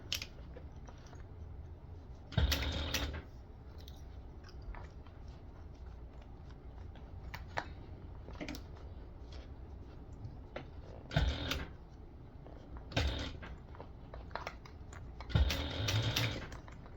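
A sewing machine stitches a small tote bag in several short bursts of rapid mechanical whirring, close up, separated by pauses filled with faint handling noises.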